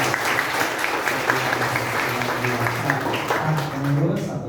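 A church congregation at a parish closing event claps for the organizers, a steady wash of applause with voices murmuring and talking underneath.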